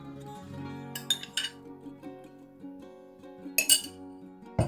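Vegetables are stirred with spices and oil in a bowl, with scattered clinks and scrapes of a spoon against the bowl, sharper knocks clustering near the start and again toward the end.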